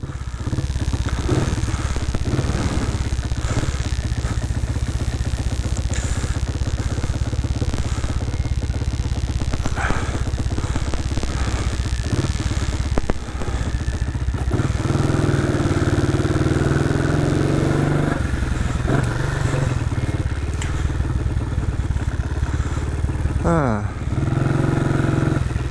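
A 1959 BSA motorcycle engine runs on a frosty morning, with a loud, steady, throaty thump and mechanical clatter throughout. Wind buffets and rustles over the engine, and someone speaks over it at times.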